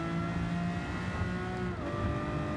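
A Lamborghini Murcielago LP640 fitted with a race exhaust in the Gran Turismo video game, its engine holding a loud, steady, close-up drone with a slight dip in pitch near the end.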